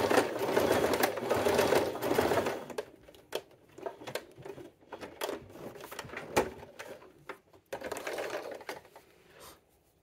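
A sewing machine stitches a second line along a silk scrunchie, a loud, close, continuous mechanical whir for several seconds, then stopping and restarting in shorter bursts with small clicks between.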